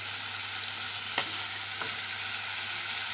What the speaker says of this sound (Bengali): চিংড়িটা আমি হালকা করে ভেজে তুলে নেব